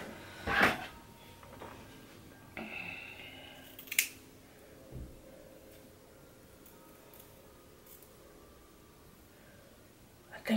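Scissors snipping off the lace of a frontal wig: a few short, crisp cuts and clicks, spaced irregularly and fairly close, over a quiet room with little else audible.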